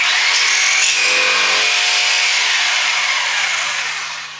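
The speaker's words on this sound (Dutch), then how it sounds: "Stop hem erin, zet je zaag aan." A Mafell P1CC precision jigsaw cuts through wood with a loud, close, continuous buzzing rasp that holds steady, then eases off toward the end.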